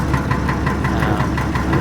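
A Fordson tractor engine runs in fourth gear on a farm, a loud steady chugging with evenly spaced knocking beats and a low rumbling vibration throughout, close to the microphone with no talk.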